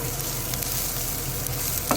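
Garlic sizzles in hot oil in a frying pan alongside ginger while cooking balbacua, a steady close crackle of frying with faint stirring, no voices.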